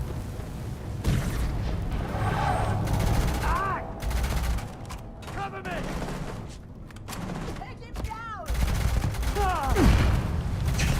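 Rapid bursts of automatic gunfire and heavy booms from a firefight in the space game Starfield, with loud volleys and explosions running continuously beneath and between voices.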